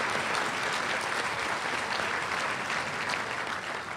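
Dense, steady audience applause at a Father of the Year awards event in 2007, a continuous wash of many hands clapping that stays loud and even throughout and tapers only slightly at the end.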